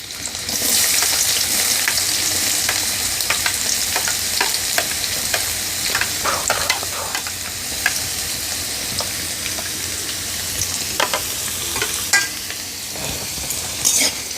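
Chopped garlic and onion fry in hot oil until browning, a loud, dense sizzle that runs the whole time, broken by repeated scraping and clinking of a spatula stirring the pan.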